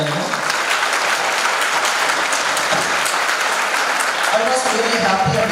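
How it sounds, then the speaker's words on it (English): Loud, sustained applause from a large audience at a college Republic Day celebration, a dense wash of clapping lasting throughout with a voice faintly mixed in. "can we have a big round of applause for your college and management?"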